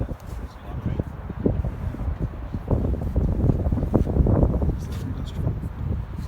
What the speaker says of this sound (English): It's obviously very windy up here, still a bit cold.